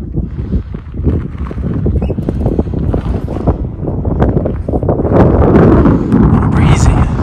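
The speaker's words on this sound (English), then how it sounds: "Breezy." Wind gusts buffet the microphone outdoors at Grapevine Canyon, a loud rumbling roar that builds toward the end, with people talking briefly over it.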